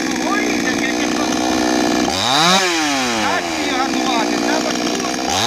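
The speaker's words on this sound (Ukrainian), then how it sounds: "Дивися, заводиться пилка." A power saw runs loud and continuous nearby while firewood is cut, its motor pitch sweeping up and down as it revs.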